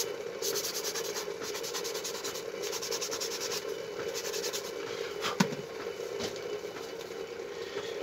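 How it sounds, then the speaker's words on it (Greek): Sandpaper rubbed over a handmade fishing lure, a raspy scratching in repeated back-and-forth strokes, close and steady with a few short pauses and a small knock midway. "Δώστε όμως λίγο προσοχή στο γυαλοχαρτάρισμα"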